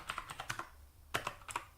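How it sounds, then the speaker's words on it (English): Rapid keystrokes on a computer keyboard while entering commands during an Arch Linux installation, quick clustered clicks in short bursts with brief pauses, close and fairly quiet, no talking. "I'll be typing in US/Pacific"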